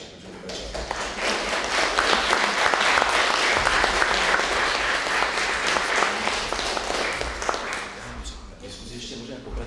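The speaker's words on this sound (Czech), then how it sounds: "se s ní rozloučíme potleskem" Audience applause fills a public discussion hall, steady dense clapping from many hands lasting nearly ten seconds before tapering off near the end.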